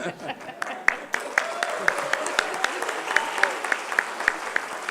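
Audience applause fills a parliamentary meeting room, a steady wash of many hands clapping with sharp individual claps standing out, moderately loud, with faint voices underneath.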